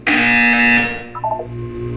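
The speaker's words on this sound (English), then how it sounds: "You will hear a buzzer." A buzzer in Portal 2 blares once, a loud harsh electronic tone held for about a second before cutting off, followed by a few faint blips.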